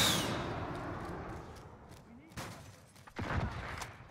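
A sentry gun in a video game fires short bursts of shots over a low background rumble, with a louder volley near the end, while players talk over the action.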